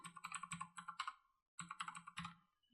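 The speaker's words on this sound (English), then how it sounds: "So I'm going to type in" Quick bursts of typing on a computer keyboard, close and quiet, with rapid rhythmic key clicks in two runs separated by a brief pause.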